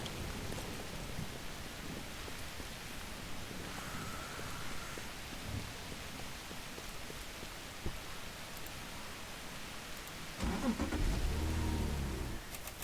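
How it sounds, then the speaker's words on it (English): A car drives in the video game Dead Frontier 2, its engine a steady droning rumble with a noisy wash, swelling louder for a couple of seconds near the end; no one speaks. "So I'm going to get back in my car, travel back to base,"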